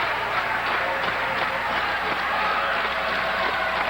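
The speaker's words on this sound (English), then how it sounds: "The crowd trying to get the adrenaline of the Chief flowing" A wrestling arena crowd roars in a dense, continuous wash of cheering and noise, broad and sustained without a break.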